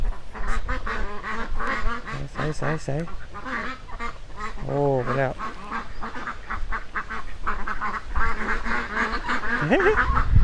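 Ducks quack in a noisy flock nearby, with someone talking over the steady chatter and some rustling.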